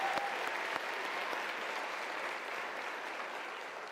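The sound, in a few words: graduation audience applause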